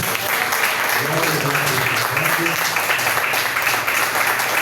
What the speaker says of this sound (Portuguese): Só para o seu assento, aplauda ao Senhor